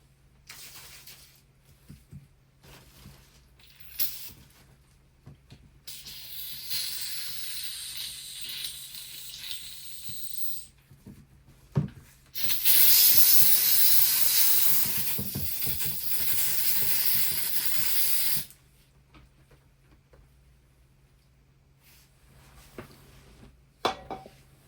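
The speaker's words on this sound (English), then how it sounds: "Let's spray this side out too" Cleaner sprays from an aerosol can onto Team Associated SC10 RC car parts in two long hissing bursts, about five and six seconds, with small clicks and handling noises of parts between and after.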